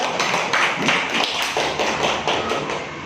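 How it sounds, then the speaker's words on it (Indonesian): Indoor audience at a teacher training dissemination session gives a short round of applause, a dense patter of claps that is fairly near and steady for a few seconds with no talking. "Tepuk tangan dulu ya."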